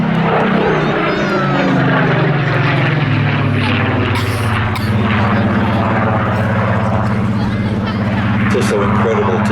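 Rolls-Royce-engined Supermarine Spitfire PR.XIX flying at an air festival, its loud, steady propeller-engine drone holding throughout at close range, with faint background voices beneath.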